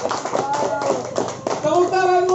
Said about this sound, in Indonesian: Tepuk tangan buat Bung Golden.